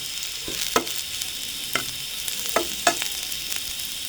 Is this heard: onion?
yes